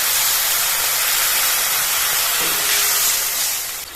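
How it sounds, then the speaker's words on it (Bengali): Water and spices hitting hot frying spice paste in a village kitchen, a loud, dense sizzle and hiss that fills the clip and eases slightly at the end. "এবার অল্প জল দিয়ে এর মধ্যে বাকি কিছু মশলা দিয়ে দেবো"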